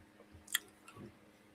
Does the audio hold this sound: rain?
no